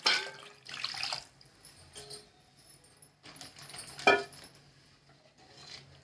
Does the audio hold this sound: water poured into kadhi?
yes